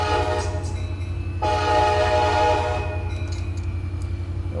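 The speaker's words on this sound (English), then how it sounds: "Gonna be a lot of horn blowing." A diesel locomotive in the Run 8 train simulator sounds its horn in long, loud blasts over a steady low engine drone, with a short gap between calls and faint rail clatter underneath.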